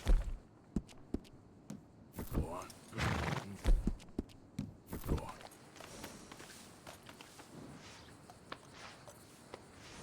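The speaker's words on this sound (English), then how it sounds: "Let's clean the horse." Brushing a horse in Red Dead Redemption 2 produces soft scrubbing strokes and a few hoof shuffles, with a brief horse snort, over a quiet outdoor game ambience, each stroke a short burst in an irregular rhythm.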